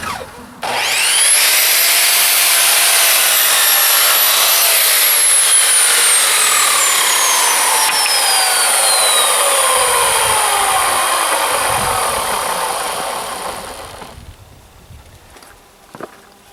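A power saw makes a rough cut through wooden trim with a long, loud whine and rasp that slowly drops in pitch as the blade spins down, then fades away. No one speaks.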